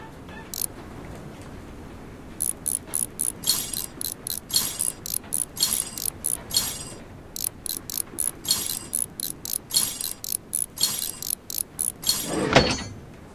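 Ratchet wrench turning bolts in the video game Train Simulator Mechanic 2017: rapid bursts of clicking pawl ticks repeat in a steady rhythm through most of the stretch, close and fairly loud, with one louder clunk near the end and no talk.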